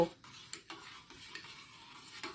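Rice and a bay leaf stirred in water in a pot, a few quiet spoon scrapes and knocks against the pot over a couple of seconds, faint and close.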